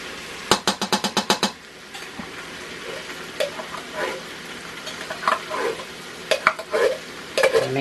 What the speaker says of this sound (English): Shannon's stirring the beans in now.